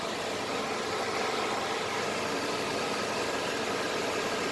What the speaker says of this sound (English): But I heard the compressor turn on. I feel it running.